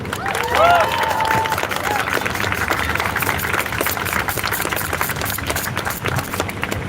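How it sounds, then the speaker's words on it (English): A crowd at a Cincinnati community gathering applauds to welcome a speaker, steady clapping with cheering and a few high whistles near the start. "Please give her a round of applause."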